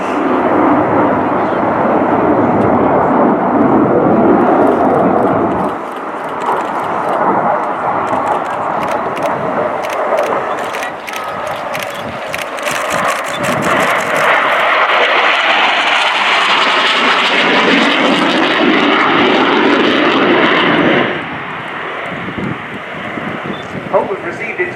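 A MiG-29 Fulcrum jet roars through a knife-edge pass at the RIAT 2015 air show, loud and sustained with engine noise swelling and shifting as it passes, while a commentator talks over it.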